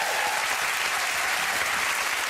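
Studio audience at a British television talk show applauding in a dense, even burst of clapping that continues at a steady level throughout.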